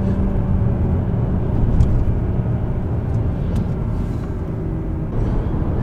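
A BMW M240i coupe drives on an open road with a loud, steady, low engine and road rumble, heard close and continuous throughout with no voices.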